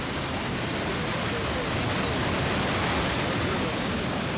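Iguazu Falls in Argentina roars with an enormous volume of falling water, a dense, loud, unbroken rushing wash that fills the whole stretch.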